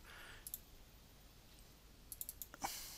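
A computer mouse clicking a few times while adjusting settings in photo-editing software, with a single click early, then a quick cluster of sharp, close, quiet clicks near the end.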